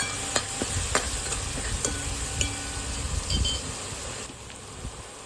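A spice masala with chili powder is stirred in a pan, with a low frying sizzle and sharp scraping and tapping of a spoon against the metal at irregular intervals, close up and with no talk.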